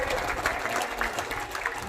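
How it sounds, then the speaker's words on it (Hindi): Loud crowd applause at a village gathering in Khedi welcoming Professor Ramvilas Sharma, continuous dense clapping from many people at a fairly even level, with some murmuring voices mixed in. "जोरदार तालियों के साथ आदरणीय प्रोफेसर रामविलास शर्मा जी का स्वागत करें"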